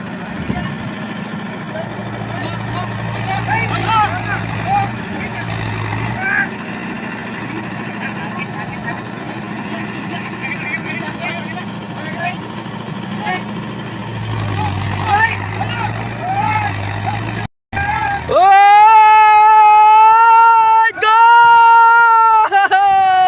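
A Mahindra 4x4 tractor stuck in a muddy field strains to pull free with an elephant's help. A steady engine drone gives way, after a brief cutout, to loud, high-pitched labored revving, with voices around it.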